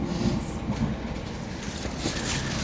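A train runs on rails toward Leatherhead with a steady rolling rumble and a faint rhythmic clatter of wheels, heard from inside a carriage with brief talk at the start.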